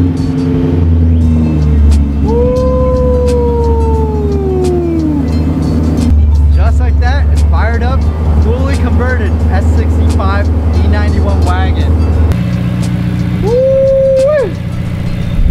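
A BMW E91 M3 wagon converted with an S65 V8 cranks and fires up, then settles into a loud rumbling idle with a rev, while people talk and cheer close by.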